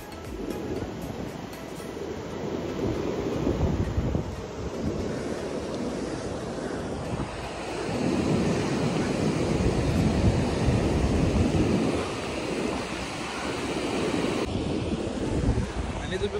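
Sea waves washing onto an empty Konkan beach in Maharashtra during monsoon rain, a steady roar of surf with gusting wind buffeting the microphone, loud and continuous throughout.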